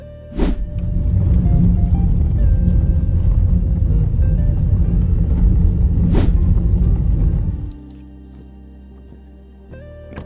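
A Land Rover Defender 110 X rumbles and crunches steadily over uneven riverbed rocks for several seconds, with a couple of sharp knocks, then the noise drops to a quieter idle.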